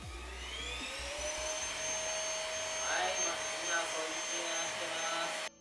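A vacuum cleaner whines steadily with a high motor tone, continuous and fairly loud throughout, then cuts off abruptly at the end.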